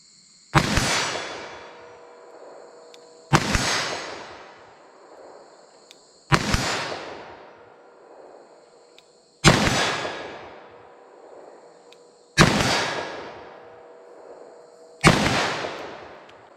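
Six loud .357 Magnum revolver shots fired with Barnes TAC-XPD lead-free hollow points into ballistic gel, each sharp blast evenly spaced about three seconds apart and trailing off in an outdoor echo, with no voices.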